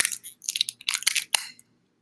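Close, crisp crunching and clicking as a hard lozenge is chewed, in quick irregular bursts before it falls quiet.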